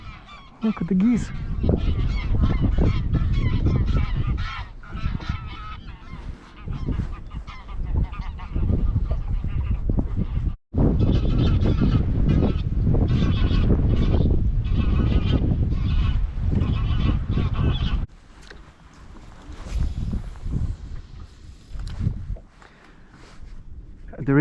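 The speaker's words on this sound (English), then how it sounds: "Look at the geese." Geese honk repeatedly by a lake in a noisy outdoor scene, their calls mixed with a voice talking over them, fairly close and loud.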